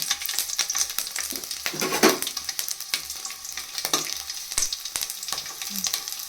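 Garlic frying in oil for a vegetable saaru, a dense continuous sizzle with scattered crackles and soft utensil scrapes, close and fairly loud, with no talking.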